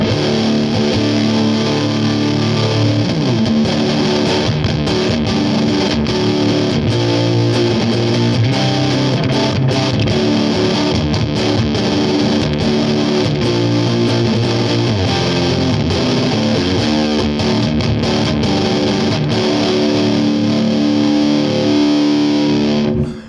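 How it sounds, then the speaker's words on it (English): Loud, thick electric guitar through a Bigfoot Engineering King Fuzz pedal at high gain plays a continuous saturated riff with a heavy low end and no voices. "This particular fuzz pedal, it's got a very rich kind of thick bottom end to it."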